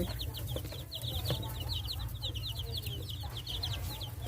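Many high, rapid peeps from a cluster of baby Burmese-breed chicks in a farm brooder chirp continuously over a steady low hum, fairly close and busy throughout.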